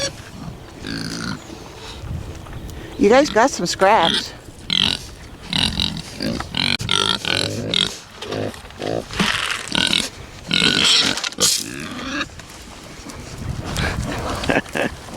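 Pigs grunt and squeal loudly up close while jostling over scraps and feed on a small farm, a busy overlapping din with a person talking intermittently among them.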